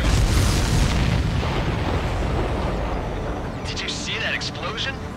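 A large explosion in the flight combat video game Ace Combat 7 bursts loud and deep, then rumbles and slowly decays over several seconds, with radio-style voices speaking near the end.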